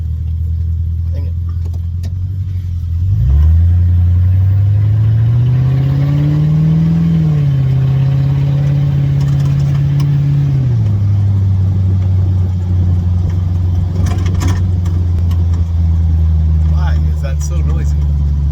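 A lifted Ford Crown Victoria's engine drones loud and steady from inside the cabin, rising as the car pulls away and accelerates, then settling to a constant cruising hum with road noise underneath.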